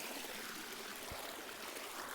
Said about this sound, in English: It's actually a waterfall in the middle of the trail.